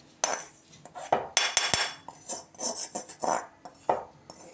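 A spoon scrapes and clinks against a pan while semolina roasts in ghee for rava kesari, in repeated irregular strokes, close and moderately loud, with no talk.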